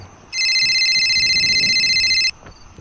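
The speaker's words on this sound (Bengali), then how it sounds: "ঠিক এমন সময় আমার ফোনটা বেজে উঠল" A mobile phone rings once with a bright electronic tone lasting about two seconds, loud and close, over a quiet background.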